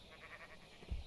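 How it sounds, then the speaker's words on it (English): Sheep bleats once in Minecraft, a faint wavering animal call over a quiet background, ending with a brief low thump. "Sheep seem quite stubborn."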